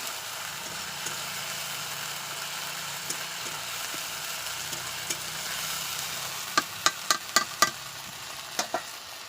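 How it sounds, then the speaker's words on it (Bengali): Ginger is stirred and fried in a pan with a little water, cooking for a Bengali cholar dal. A soft, steady sizzle runs throughout, with a few sharp scrapes of the spatula near the end. "আদাটা একটু ভালো করে নেড়ে চেড়ে নিয়ে একটু ভালো করে কষে নেবো আদাটা"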